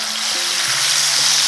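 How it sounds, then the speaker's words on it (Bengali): Ginger paste fries in oil with whole spices such as cardamom and a pinch of salt, producing a dense, continuous sizzle that stays loud and even throughout, with no talking. "আদাটা একটু ভাজা ভাজা করে নিয়েছি।"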